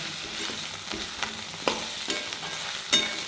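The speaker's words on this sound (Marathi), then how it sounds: "हा कांदा बराठा याच्यामध्ये छान असा परतवून घ्यायचा" Onion sautéed in oil in a pan, a quiet crackling sizzle with irregular scraping taps of a spoon stirring, close up and without speech.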